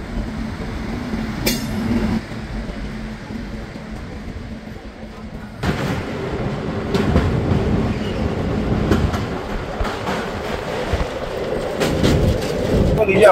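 A passenger train pulls in at a station on a route through Midnapore district in West Bengal, its rumbling and rail clatter swelling from about six seconds and growing louder toward the end, with platform hubbub underneath.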